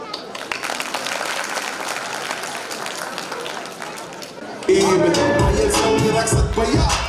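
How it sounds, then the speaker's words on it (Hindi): Loud audience clapping at a school annual function for the pre-primary campus, steady crowd applause for about four and a half seconds before it is abruptly overtaken by louder music and voices. "आइए जोरदार तालियों के साथ मंच पर आमंत्रित करते हैं हमारे सीनियर केजी के धमाकेदार कलाकारों"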